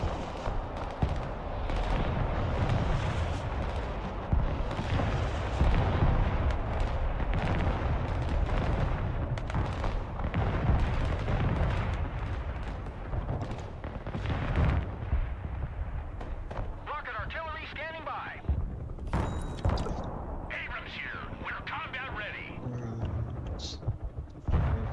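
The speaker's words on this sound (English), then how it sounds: "MLRS firing on them." Rumbling rocket artillery barrages from MLRS launchers in the war game Broken Arrow, a dense roll of booms and explosions that fades into sparser distant blasts, with a player's voice over it.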